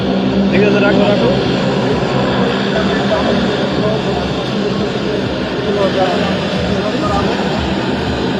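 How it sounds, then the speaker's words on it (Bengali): At Barisal airport, a plane that has just landed gives off a loud, steady engine roar that runs throughout, with a crowd talking over it. "সেখানে এইমাত্র এসে বিমানটি ল্যান্ড করলো।"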